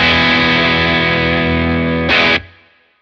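A modded Bad Cat Black Cat 30 tube amp pushes a big, open distorted electric guitar that sustains loud and steady, with a brief brighter swell near the end before the chord cuts off and rings out, with no talking.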